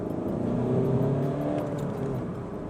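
The 2-litre diesel of a SEAT Leon FR 184 revs between about 3,500 and 4,500 rpm, a steady, smooth mid-pitched engine drone that rises slightly and then settles, heard from inside the car with no talk.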